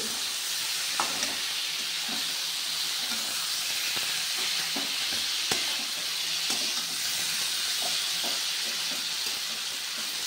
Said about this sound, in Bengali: সয়াবিন আলুটা দিয়ে আমি খুব ভালোভাবে মশলাটার সাথে মিশিয়ে নিচ্ছি